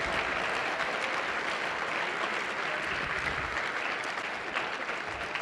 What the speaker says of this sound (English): Give our keynotes a round of applause.